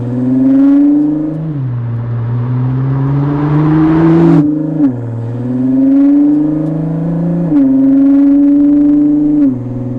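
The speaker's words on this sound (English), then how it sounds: "I think this is a massive improvement over the stock exhaust" Ford GT with an aftermarket exhaust cruising at low speed on a wet road in a built-up area, its engine droning steadily as the driver gives it moderate throttle, with several rises and small shifts in pitch as it revs and eases off.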